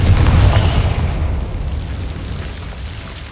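A Confringo blasting spell goes off in the Hogwarts Legacy video game as a single loud, low boom that opens the clip and fades into a rumbling tail.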